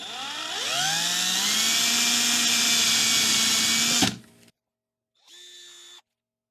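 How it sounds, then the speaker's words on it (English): A power drill pre-drilling holes in wood spins up and whines steadily for about four seconds, stops, then gives a brief second burst after a pause. "Just gonna pre-drill a few holes for these."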